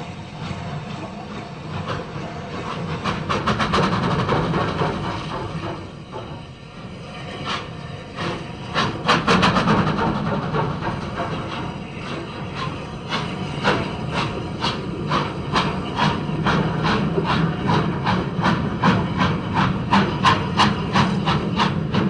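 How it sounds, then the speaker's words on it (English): Bulleid Pacific steam locomotive Exmouth at Salisbury in the mid 1960s, slipping as it starts: loud bursts of exhaust chuffs come in quickening rhythm with steam hiss, settling into a steady rapid beat. "All the bullied Pacifics were famous for slipping starts,"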